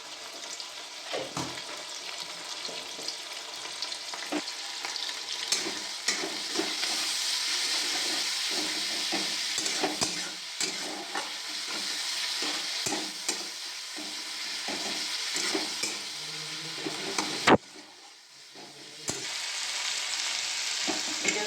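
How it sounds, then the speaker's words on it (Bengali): Fish oil frying in a pan with salt and turmeric, a steady close hiss and crackle with bursts of stirring, briefly dropping near the end before the sizzle resumes. "মাছের তেলটায় পরিমাণ মতো নুন, আর হলুদ দিয়ে ভেজে নিচ্ছি।"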